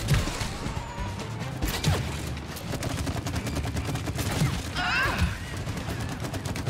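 Gunfire blasting at an enemy's shield in the co-op video game It Takes Two, rapid bursts and impacts over dense game noise, with players talking throughout.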